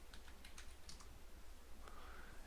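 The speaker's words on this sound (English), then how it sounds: "I can do that by coming up here and click save, typing in my name" A name is typed on a computer keyboard, giving a quick run of soft, close key clicks that thin out midway, faint against a steady background hum.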